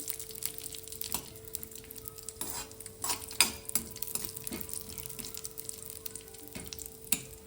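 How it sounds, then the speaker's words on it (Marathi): Cashews, almonds and raisins fry in a pan, a soft low sizzle broken by clicks and scrapes of stirring, quiet and close, with a steady hum running underneath and no talk. "मी ते काजू, बदाम, मनुके फ्राय करून घेते।"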